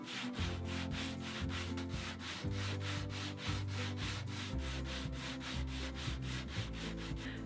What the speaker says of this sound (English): I'm just gonna take 220 and sand it smooth